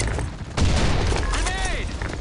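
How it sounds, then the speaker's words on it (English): A grenade blast in the online shooter Blackshot, a loud booming burst that jumps in partway through over steady game noise, with a rising whistle-like sweep after it and voices talking. "Grenade."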